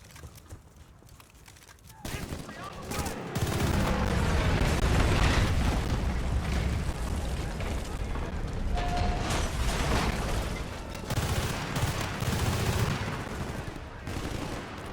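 Gunfire rattles in Battlefield Bad Company 2, with dense bursts of automatic fire and booming impacts that start after a quieter opening and carry on loud and sustained, with a voice talking over parts of it.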